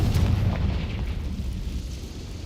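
Confringo spell explosion in a video game, a heavy low boom that rolls into a long rumbling decay, loud and close with no talk.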